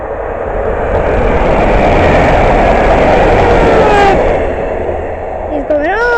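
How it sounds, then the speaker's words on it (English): A train speeds through Moston station, a loud close rushing roar with wind buffeting, while people talk over the passing. "Got a train coming."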